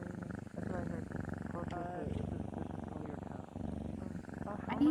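A cat purring as a close, continuous rhythmic rumble with slight pulses, faint tonal sounds weaving through it and a short sharp tone at the very end.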